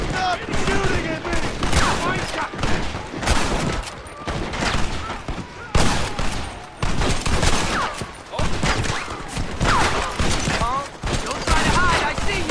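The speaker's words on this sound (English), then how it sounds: "Stop shooting at me!" Rapid, dense gunfire from a Red Dead Redemption battle against the United States Army, crackling shots in bursts throughout under shouted voices, loud and continuous.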